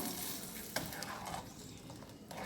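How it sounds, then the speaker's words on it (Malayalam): A spoon stirs curd curry (moru kachiyathu) in a pan, giving a soft, continuous scraping and low sizzle with a couple of sharper clinks against the metal, quiet and close. "എല്ലാം കൂടെ ഒന്ന് ഇളക്കി കൂട്ടാം"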